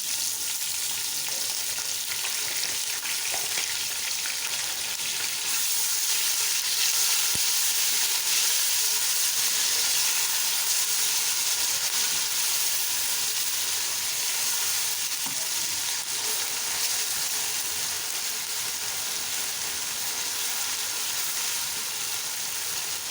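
Garlic, ginger and green chilli paste fries with browned onions in a pan, giving a steady, close crackling sizzle with occasional stirring and no talk.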